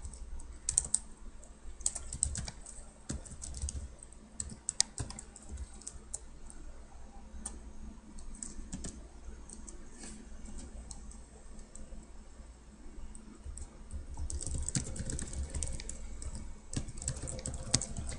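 Typing on a computer keyboard, a steady patter of close key clicks with brief pauses and bursts, running throughout with no talk.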